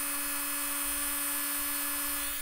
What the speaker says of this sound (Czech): Bruska vydává teda takový opravdu ječivý zvuk.